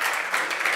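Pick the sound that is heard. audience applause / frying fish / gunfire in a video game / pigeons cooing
audience applause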